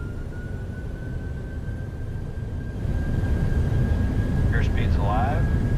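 Airliner jet engines in Microsoft Flight Simulator spooling up for takeoff, a steady whine with a rising engine rumble partway through, joined near the end by brief synthetic cockpit tones.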